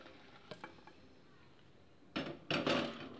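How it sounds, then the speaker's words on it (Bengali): Boiled water poured onto pressure-cooked dal for a bitter-gourd dal: a few faint clinks, then a loud splashing gush in two bursts near the end. "এবার ওই সেদ্ধ করা ডালের ওপরে আমি ওই ফোটানো জলটা অ্যাড করে দিচ্ছি।"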